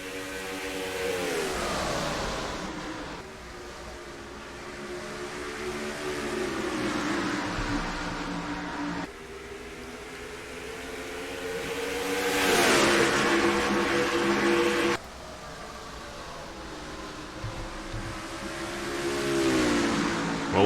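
Stock cars race at Phoenix Raceway in the NR2003 game, engines whining and revving in long sustained passes that rise and fall, with pitch sweeps as cars go by and abrupt cuts between views.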